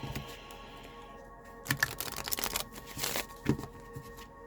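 Tarot cards are shuffled in quick riffling bursts, crisp papery flutters and snaps repeating in clusters up close, with no talking.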